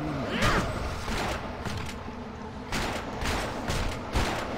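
Pistol shots from an Outlander in the action RPG video game Torchlight 2 crack in a loose series of quick bursts, moderately loud, mixed with other game effects and no talking.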